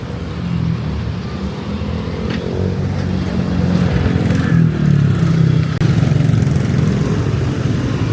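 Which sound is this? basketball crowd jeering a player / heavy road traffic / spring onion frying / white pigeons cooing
heavy road traffic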